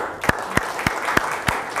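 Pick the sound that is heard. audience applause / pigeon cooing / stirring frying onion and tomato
audience applause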